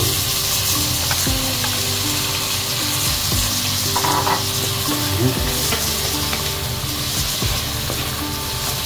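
Chicken breast and broccoli stir-frying in a pan, a steady loud sizzle with repeated scraping and clinking of a spatula tossing the pieces throughout.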